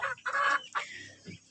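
Village chickens in a coop built of wood and bamboo give a few quick, close clucks and short squawks in a brief burst.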